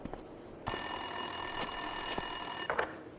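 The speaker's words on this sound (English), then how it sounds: "Winterson's phone was ringing." An office desk telephone rings in Max Payne 2: a steady electronic bell trill holds for about two seconds, close and clear over a quiet room hum.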